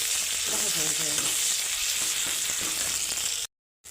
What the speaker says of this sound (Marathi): उरलेला मसाला आपण याच्यामध्ये घालू आणि तो तेलामध्ये मस्त भाजून घेऊया